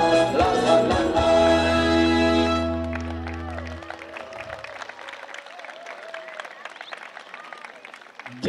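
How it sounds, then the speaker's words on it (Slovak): Warm applause from a concert audience breaks out as sustained music fades away, then continues as steady clapping from a large crowd until near the end. "za vrúcný potlesk"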